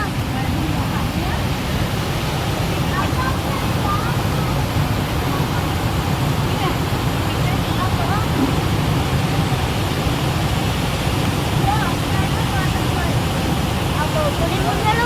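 Water of the Manjira river flowing at a temple site, a loud, continuous broadband rush that stays even throughout, with no clear voices above it.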